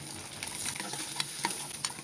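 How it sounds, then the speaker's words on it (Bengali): Boiled, peeled eggs fry in a pan with a little turmeric, giving a steady soft sizzle with faint crackles and light stirring, quiet and close, with no voices. "ডিমটাকে হালকা একটু হলুদ দিয়ে ভেজে নেব।"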